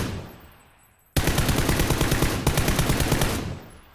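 Rapid gunfire from a 260 rifle in a video game, set on a desert map: a loud burst of repeated shots starts abruptly after a fading echo, with a brief break before firing resumes.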